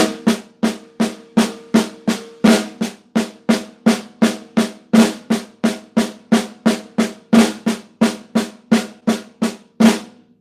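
A drummer plays a continuous flam sevens lick with no rest between repeats, producing a fast, even stream of sharp, close snare-like strikes with accented flams.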